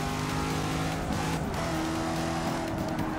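A race car engine droning steadily at high revs in the video game Forza Motorsport 6, a continuous loud motor hum with slight pitch shifts, no voices.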